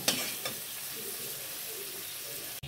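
Tomato with spices being stirred and fried in a pan, making a constant close sizzle with a couple of stirring clatters near the start and a brief break just before the end.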